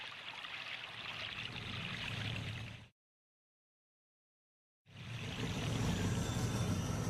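Creek water flows steadily past fallen trees and leaf litter in a narrowing forest stream, a continuous rushing wash that drops out briefly to silence midway and then resumes.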